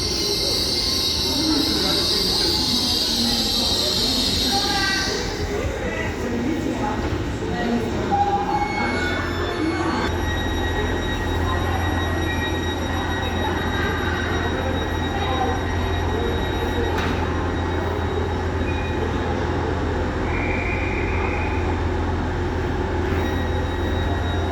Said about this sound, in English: LNER Azuma.